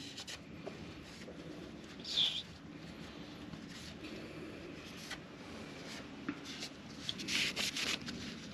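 Soft rag wiping over a dirty, gummed-up engine part from a 1939 Caterpillar D4 pony motor, faint steady rubbing and scuffing with a couple of louder swipes, close up and quiet.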